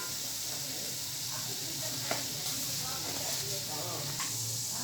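Boiled beef trotters (paya) searing in a pot with lightly fried chillies, giving a steady close sizzle and hiss with occasional scraping stirs of a spoon against the pot.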